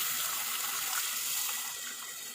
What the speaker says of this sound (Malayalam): ആവശ്യത്തിന് പുളിവെള്ളം പിഴിഞ്ഞത് ചെറുതായിട്ടൊന്ന് വയറ്റ് കിട്ടിയാൽ മതി പുളിവെള്ളം ഒഴിച്ചു കൊടുത്തു